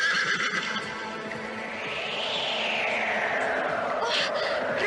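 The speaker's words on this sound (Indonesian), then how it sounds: "Oh, Raden, luar biasa sekali lari kuda ini" A horse whinnies in a long rising and falling neigh, loud and close, over a steady rush of background noise with a hint of hoofbeats.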